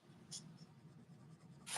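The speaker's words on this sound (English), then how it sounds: "like this marker on paper. Yeah. Has kind of a scratchy sound." A marker scratches across paper in short strokes, a faint, close, papery rasp that comes in brief bursts over a quiet background.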